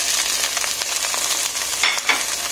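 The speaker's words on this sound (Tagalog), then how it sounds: "Kung mapula na yung ating bawang, pwede na natin lagay yung ating sibuyas." Sliced onions drop into hot oil with reddened garlic, setting off a steady, close sizzle with small bursts of crackle and a faint scrape of stirring throughout.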